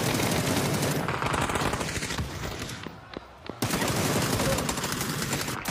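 Heavy, sustained automatic gunfire crackles nearly nonstop in a PUBG-style battle royale esports match, with a brief dip in intensity midway before the dense barrage resumes at full loudness.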